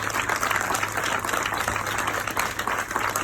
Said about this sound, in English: can you clap it up for yourself?